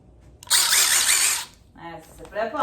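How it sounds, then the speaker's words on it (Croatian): A small power drill whirs loudly and steadily for about a second during assembly of a chest of drawers, then cuts off as a voice follows. "I treba moja bušilica"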